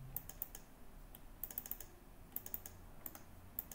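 Fingers tap out quick, light clicks on a computer keyboard, a few short bursts of keystrokes with brief gaps between them, faint and close in a quiet room.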